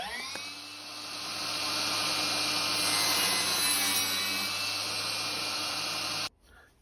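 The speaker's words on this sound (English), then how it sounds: "I'm going to adjust the blade of my table saw to 45 degrees and use this little jig using my miter gauge to make the cuts" A table saw with its blade tilted to 45 degrees cuts a bevel across the end of a wooden board, guided by a jig on the miter gauge. A loud, steady whine runs for about six seconds over the motor hum, then stops abruptly.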